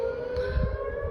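A civil defense siren in Frisco, Texas sounds during a severe thunderstorm warning, a loud steady sustained tone holding constant throughout with no voices.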